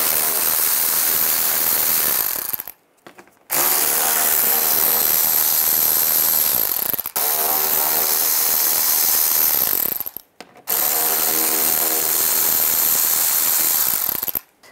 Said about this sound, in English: From underneath, you have 2 screws on each side. Use a 7mm socket,